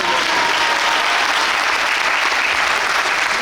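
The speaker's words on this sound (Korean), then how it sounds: "다시 한번큰 박수 부탁드리겠습니다" Loud, dense applause from a theater audience at the closing curtain call of the musical Crash Landing on You, a continuous wash of clapping throughout.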